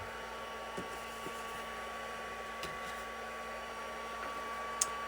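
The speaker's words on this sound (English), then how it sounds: "I'm going to start up my heat tool." Embossing heat tool blowing steadily at close range, a constant broadband whoosh with a faint electrical hum through five seconds, with small taps and one brief click near the end, used for drying white embossing powder in a home crafting setup.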